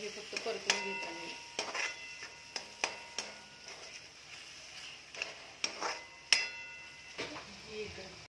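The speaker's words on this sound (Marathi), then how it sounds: "त्यामुळे हे फक्त परतून घ्यायचं आहे" Spatula scrapes and clinks against a pan while a Maggi onion-tomato mix with turmeric and red chili powder is sautéed, giving repeated sharp stirring taps over a soft background sizzle, with no talk.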